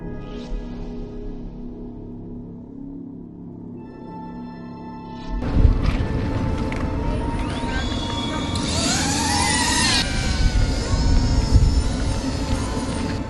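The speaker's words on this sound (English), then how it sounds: "This one is very noisy because of the propeller guards." A small drone fitted with propeller guards takes off partway through, its loud, close, buzzing whine with shifting rotor pitch replacing a quieter hum and continuing steadily to the end.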